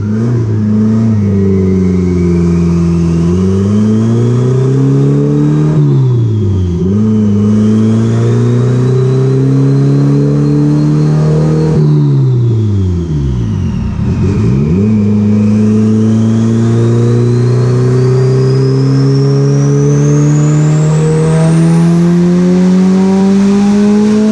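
A customer's turbocharged DC Acura Integra with a stock B18C engine, eBay turbo manifold and Turbonetics turbo revs hard on a dyno, a loud sustained engine roar that climbs and falls in pitch, briefly dropping off twice before surging again.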